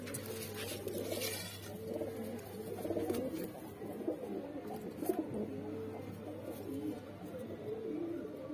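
Soft, repeated coos from Saharanpuri kasni mix pigeons at a pigeon sale in Mandi Dhanaura, Uttar Pradesh, over a steady low hum, with faint rustling and distant background noise throughout.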